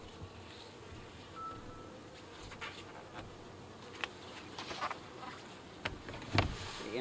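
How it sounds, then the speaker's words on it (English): Honey bees buzz steadily inside a horizontal hive, a continuous low drone with occasional louder close passes and scattered clicks and knocks from handling the hive. "I am encouraged that there's still bees in here"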